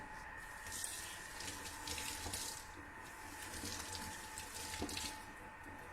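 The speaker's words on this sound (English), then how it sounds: "Let me wash my hand." Tap water runs steadily into a sink as hands are washed, a soft continuous splashing hiss with faint knocks and shifts of the stream, quiet and close, with no talk.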